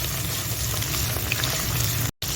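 Paste of ground green chili, ginger and garlic sizzles in half a cup of hot oil in a pan, a steady close bubbling hiss that runs on evenly before a brief cut to silence near the end.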